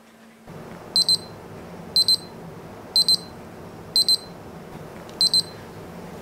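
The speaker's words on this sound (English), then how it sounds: "Then we will hear sound of alarm." A wristwatch alarm from a Miyota/Citizen 6L71 movement beeps at midnight in quick double chirps, repeating five times at roughly one-second intervals, high and clear over a faint background hum.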